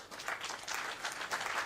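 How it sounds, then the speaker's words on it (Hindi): An audience at a book launch for Sharad Pawar breaks into sustained applause, a soft, even wash of many hands clapping at a moderate distance. "अब जोरदार तालियों की गूंज में"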